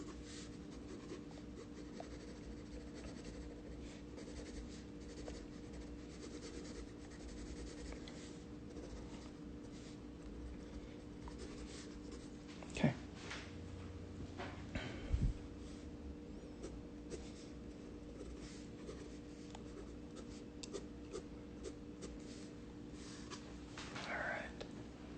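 A pencil shades on paper while drawing, giving a long, steady, soft scratching rub with a few sharper strokes and taps. It is close and fairly quiet throughout.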